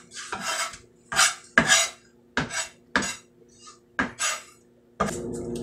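A spoon scrapes and clinks around a pan while stirring a thick, creamy Italian bake sauce, about seven distinct scraping strokes in an irregular rhythm, close and clear.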